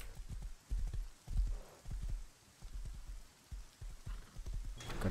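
Horse hooves clip-clop in the video game Rust, a quick run of irregular thudding steps in several bursts separated by brief pauses, fairly close and moderately loud.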